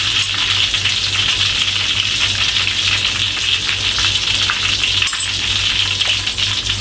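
Chopped ginger, garlic, shallots and chili sizzle steadily in hot oil, a loud, continuous close-up fry with a low hum beneath and no talking.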